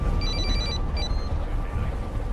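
A mobile phone rings with an incoming call on a train, a short repeating electronic ring pattern over steady low rumble and background noise, fading after about a second.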